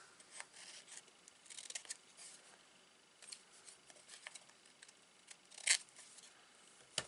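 Scissors or a trimmer snip and rasp through card stock in short, quiet, close strokes. A louder cut lands near the end, and nobody talks over it.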